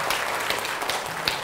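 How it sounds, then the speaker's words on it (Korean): Audience applause at the close of a church lecture, a steady field of many hands clapping at moderate distance for the whole stretch, fairly even with slight swells and no voices over it. "수고했다, 박수 쳐주시고"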